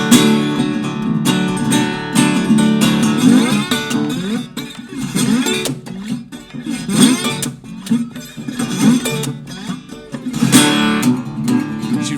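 Blues guitar played live, imitating a big train running hard and splitting rails with driving, rhythmic chugging strums and bent notes, loud and continuous for about twelve seconds with no voice over it.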